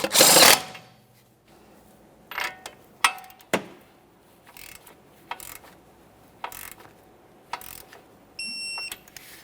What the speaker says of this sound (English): Snug it, torque this to 36 foot-pounds.